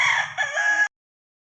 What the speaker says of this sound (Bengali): আমার মায়ের পোষা দেশি মোরগ, এটা তো আরও বেশি ডিস্টার্ব করে